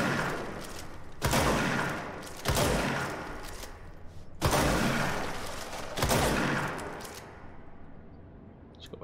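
Heavy gunfire blasts at the base of a building in the video game Control, coming in four or five loud, broad bursts with rumbling debris between them, then tapering into a fading crumble.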